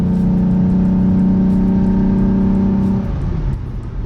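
A car with a VR6 engine drones at a steady, loud pitch for about three seconds, then the note drops away as the revs fall, heard from close by with no talking.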